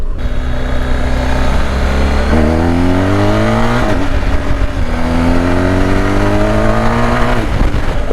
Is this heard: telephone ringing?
no